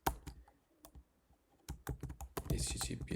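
Computer keyboard typing while entering a URL prefix during Google Sites custom domain setup: a few scattered keystrokes at first, then a quick busy burst of clicky taps near the end, close and fairly loud, with no voice.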